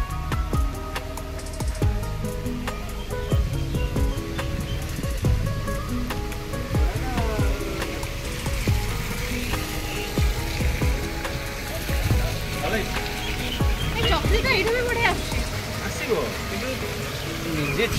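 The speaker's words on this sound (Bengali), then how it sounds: "এখান থেকে জল বেরোচ্ছে," Water flows steadily from a fountain at Dubai Miracle Garden, a continuous near rush and splash, joined by background voices and crowd noise.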